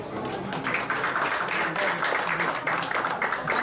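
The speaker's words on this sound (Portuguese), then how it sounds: "Solicito uma salva de palmas" Applause from a crowd, a dense wash of clapping that holds steady throughout.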